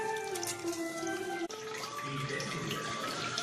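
Water from boiled crab mixed with tamarind is poured through a strainer for South Indian crab rasam, giving a steady close splashing trickle that briefly breaks and resumes.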